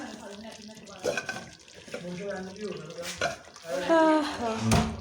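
A spoon stirs a pot of Lahori nihari, a thick flour-thickened stew, with scraping and soft bubbling noises close by, while background voices murmur throughout.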